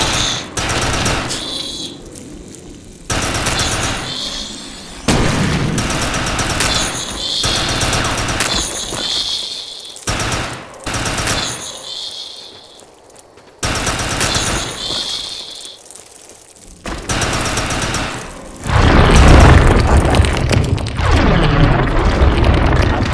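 Rapid gunfire bursts and booming explosions in the Defiance 2050 video game, a dense loud barrage of repeated shots with brief gaps, ending in a heavier rumbling stretch.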